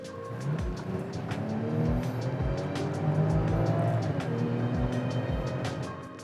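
A BMW X7 xDrive40i in sport mode accelerates steadily, its engine note and road rumble rising continuously, heard from inside the cabin with a few low thumps.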